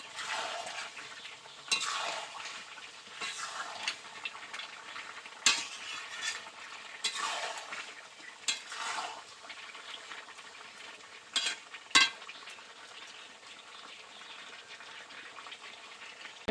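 Chicken curry made with country chicken and fried potatoes is stir-fried in a pan, with repeated scraping strokes of a spatula over a constant sizzle and occasional metal clinks.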